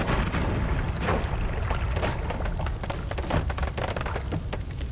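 Explosions from the video game Noita go off in rapid succession, a dense, noisy barrage of crackling booms and bursts, moderately loud and continuous with no talking.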